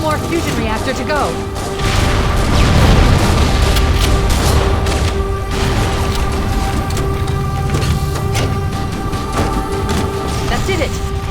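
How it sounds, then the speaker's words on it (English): Fusion reactor explosions aboard a ship in the video game Halo: Combat Evolved, heavy booming blasts and crashing debris over a continuous loud rumble, with game voices talking at the same time. "Use explosives on the other 3 reactors. That should be enough to trigger a wildcat explosion of the engines."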